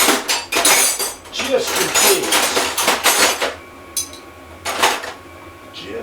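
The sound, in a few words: rummaging through metal tools for a 9/16 wrench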